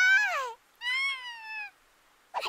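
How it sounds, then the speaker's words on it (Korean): A cat meows twice up close, the first call falling in pitch and the second held longer and steadier, with a short faint sound right at the end. "냥이 왔다!"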